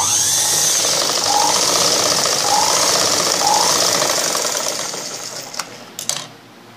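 A sewing machine runs steadily while stitching the front panel of a blouse, its motor a continuous mechanical whir with a faint rhythmic needle pulse, close and alone, before slowing to a stop with a couple of clicks.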